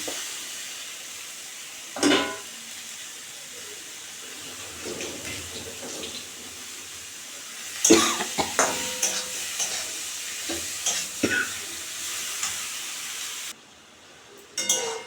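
Yardlong beans, potato, tomato and salt-and-turmeric-coated fried fish going into a hot pan for a fish curry, with a few loud clattering drops and stirring, then a steady soft sizzle under intermittent scraping.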